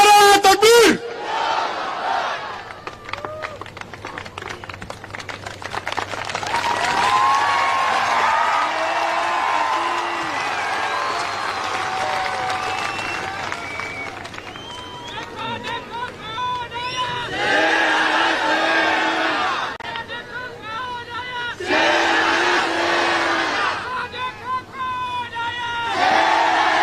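A large political rally crowd in Mangrol, Gujarat roars back a chant to a Nara-e-Takbir call, loud mass voices swelling in repeated waves over a long stretch, with amplified shouting between the responses.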